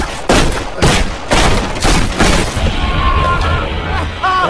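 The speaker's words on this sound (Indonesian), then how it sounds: "Ray malah disambut dengan tembakan dari Dylan." Gunshots in an action film fight scene, several loud sharp blasts in quick irregular succession over the first three seconds, then fading into ringing tones and background rumble.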